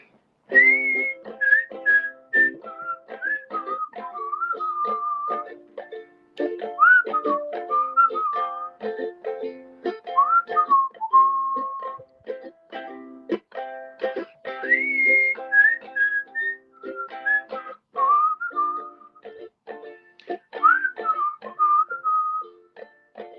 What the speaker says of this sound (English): Now I guess it's time to whistle.